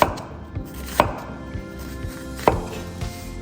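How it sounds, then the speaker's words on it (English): A knife chops cooked pork rib pieces on a cutting board for Cantonese braised ribs with potatoes, giving a handful of sharp, separate thuds at an uneven pace, close and clear with no talking. "And then cut it into really nice pieces."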